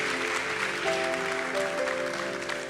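A church congregation at a worship conference applauds steadily throughout, a dense continuous wash of clapping, with a sustained musical tone or keyboard chord faintly beneath.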